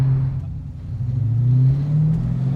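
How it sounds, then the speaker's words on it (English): A 1971 El Camino fitted with Roadster Shop parts cruises along the road, its engine giving a loud, steady low rumble with a slight rising drone, close and unbroken. "Running this thing down the road, it's just an exciting car."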